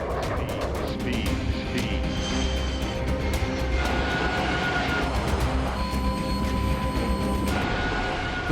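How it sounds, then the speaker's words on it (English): Airbus A380 touching down overweight on landing with only about half its brakes working, a loud steady roar of engines and airframe rumble filling the whole stretch with no pause. "The plane touches down"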